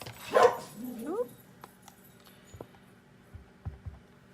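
Dogs downstairs in a house give a quick burst of barking and yips, fairly faint and indoors, followed by a few scattered thumps and quieter sounds.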